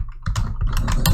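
Keys typed on a computer keyboard in quick irregular clusters of clicks, close and fairly loud, with no voices over them.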